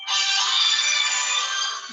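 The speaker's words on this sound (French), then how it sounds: "Ça, c'est un téléphone quelque part." A telephone rings somewhere nearby, one continuous bright electronic trill lasting nearly two seconds, with no voices over it.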